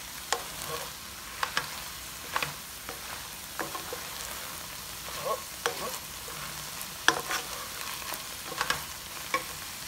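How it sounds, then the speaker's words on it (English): Ground beef with ginger and garlic frying in a pan, a steady close sizzle with scattered pops and spoon scraping as it is stirred, no talking. "I want the ginger and garlic to cook with the ground beef first before we add everything else in here."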